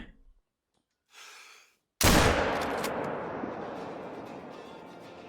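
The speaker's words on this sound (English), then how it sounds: "We're gonna have to hold a little bit high, but we could definitely take that shot" A single loud .243 rifle shot fired at a bedded mule deer outdoors, a sharp crack followed by a long rolling echo that slowly fades, after a brief quiet breath-like sound.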